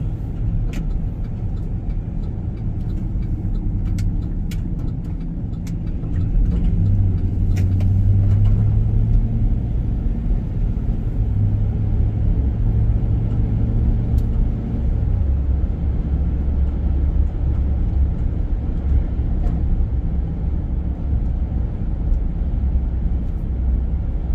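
A car cruises along Georgia back roads in fall, heard from inside as a steady low engine and road rumble that swells slightly midway, with faint clicks over it.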